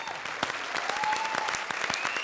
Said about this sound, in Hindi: भाई जोरदार तालियों से अरबाज भाई का स्वागत करें.